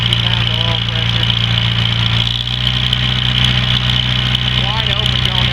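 A 1945 Farmall H tractor engine runs steadily close by, a loud continuous idling drone with a faint knocking pulse, while someone talks over it.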